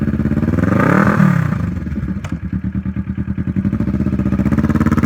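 A Kawasaki Vulcan S 650 cruiser motorcycle engine revs up loudly, then settles into a steady, rhythmic throb with regular pulses, close and alone without talk.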